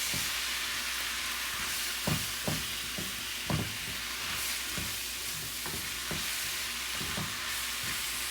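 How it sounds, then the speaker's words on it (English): Vegetables stir-frying in a hot pan with egg, a continuous loud sizzle punctuated by irregular scraping knocks of the utensil against the pan. "Keep these vegetables moving along."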